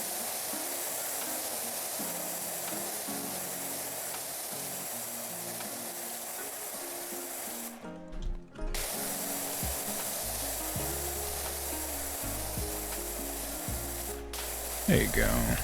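A virtual pressure washer fitted with the white nozzle sprays in PowerWash Simulator 2, a steady, loud hiss that runs almost unbroken, pausing briefly midway, over faint low background tones.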